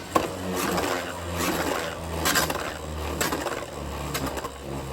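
A Beyblade spinning top scraping around a plastic stadium, a continuous gritty rasp and clatter with uneven surges, close and moderately loud with no voices.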